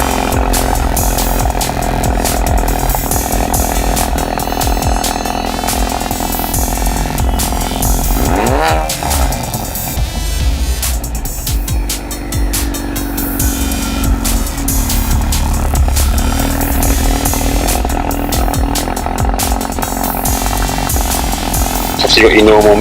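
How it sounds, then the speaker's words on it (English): A Mk3 Ford Focus RS engine revs and its exhaust buzzes loudly and continuously, the pitch rising and falling as the throttle is worked, with people talking over it. "There is a slight difference, of course, in the exhaust noise."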